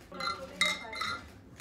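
Glasses clink together in a toast at a women's football sponsorship presentation, a few bright chimes ringing out close by, with people talking around them.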